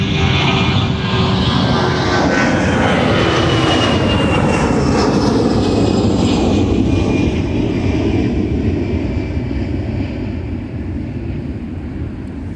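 A Southwest airliner takes off from runway 30 left at Minneapolis–Saint Paul airport, its jet engines roaring loud and steady while the sound slowly shifts in pitch as the plane climbs away.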